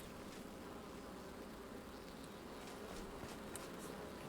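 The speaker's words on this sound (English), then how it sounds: "Here, bees." Bees buzzing in the Enshrouded video game make a steady, faint insect drone with no break and no talk.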